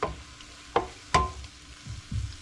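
Chicken and minced garlic browning in a pan, a soft steady sizzle broken by a few sharp scrapes and stirs, with a couple of duller thumps toward the end.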